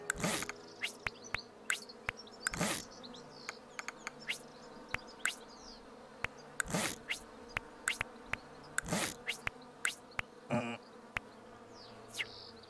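Bees buzz in the video game Hive Time, with a continuous insect drone broken by many sharp clicks and brief chirp-like game effects scattered throughout, and no talking.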